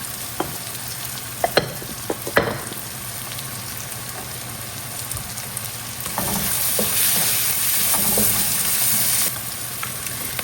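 Black pepper and spices sizzle and fry steadily in a pan, with occasional stirring scrapes and clicks near the start and a fuller, denser sizzle building in the second half.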